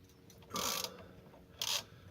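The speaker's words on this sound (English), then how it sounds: "this is a big chrome wrench, and obviously to attempt to get it off" Large chrome wrench working on a Suzuki GS500 motorcycle's front brake, two short rasping ratchet bursts about a second apart, close and clear, with no talk.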